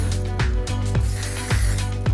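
Volumizing product sprayed onto sectioned hair at the roots during a balayage salon process, heard as a few short repeated spray bursts over a steady background hum.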